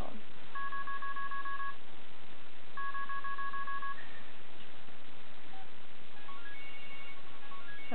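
A phone ringtone plays two long paired electronic tones, then a series of short, higher beeping notes over a steady hiss.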